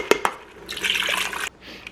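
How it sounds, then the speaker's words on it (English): Water poured from a cup into a pot of lasagna soup in an Instant Pot: a couple of quick splashes, then a steady splashing pour of about a second that stops abruptly. "I have added 3 cups of water."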